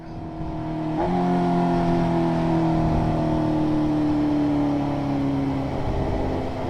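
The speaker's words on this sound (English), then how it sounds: "Look, traffic." Road traffic streams past outdoors, a steady, loud drone of car engines and tire noise with a sustained humming tone, close by and continuous with no talk.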